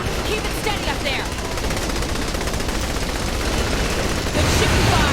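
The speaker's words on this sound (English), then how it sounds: "Good shooting, Fox." Sustained automatic gunfire from the video game Saints Row The Third, loud and continuous, forms a dense rattling barrage throughout, with game voices faintly mixed in.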